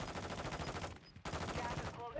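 Rapid automatic gunfire in a video game, two sustained bursts of fast rhythmic shots separated by a brief pause, loud and close.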